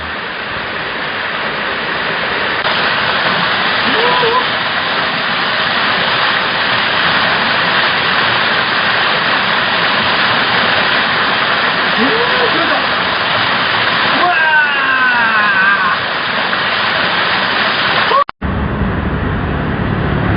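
Steady broadband rush of a low-flowing waterfall at a viewpoint in Phuket during the dry season, continuous and fairly loud for most of the stretch, with faint background sounds and a brief cut near the end.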